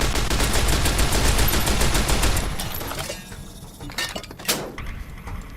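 Heavy guns fire in a rapid, dense automatic burst for a few seconds during the Battle of Hoover Dam in Fallout New Vegas, followed by a few separate, quieter shots.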